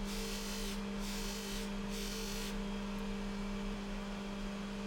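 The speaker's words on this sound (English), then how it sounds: "For this I use a polishing compound and a special wheel" A polishing wheel loaded with compound works the case lugs of a Rolex Precision 6427, caliber 1210: a steady low motor drone runs throughout, with brief airy bursts of hiss as the wheel contacts the metal.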